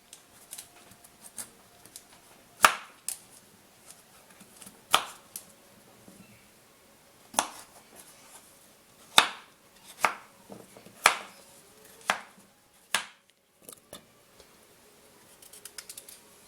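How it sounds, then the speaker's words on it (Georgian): A knife chops food on a cutting board in a home kitchen while a Soviet-style bitki meatball dish is prepared, giving sharp, isolated thuds spaced irregularly a second or two apart in a quiet room, with softer taps between them. "დავჭრათ და მოვამზადოთ."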